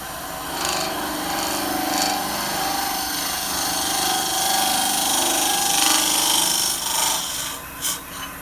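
A lathe tool slices cleanly into spinning wood while turning a goblet, a continuous loud rasping hiss that swells and eases with each pass, with no voices.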